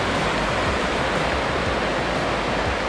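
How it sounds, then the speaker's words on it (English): A waterfall churning with white water roars in a steady, loud broadband rush close by, with no voices over it. "Beautiful waterfall, let me jump right in it."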